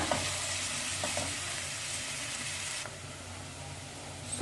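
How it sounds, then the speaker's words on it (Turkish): Chopped onions frying in hot oil give a soft, continuous sizzle with faint stirring clicks, fading to a quieter hiss partway through; no voices. "Isınmış olan yağımıza soğanlarımızı katıyoruz. Ara ara karıştırıyoruz pembeleşene kadar."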